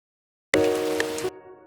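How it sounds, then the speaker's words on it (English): A rain sound effect is layered onto a music track, entering abruptly as a steady broadband hiss over tonal music and cutting off after about a second. "Maybe a little rain."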